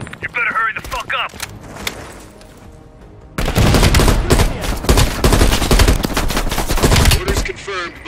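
Heavy machine gun fire in the Call of Duty Black Ops Cold War campaign, a loud, sustained burst of rapid shots dominating the second half after quieter mixed battle sounds and voices.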